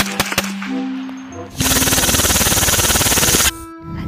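A combat gun fires in a shooting video game as one loud, rapid automatic burst lasting about two seconds, with quieter game sounds before and after.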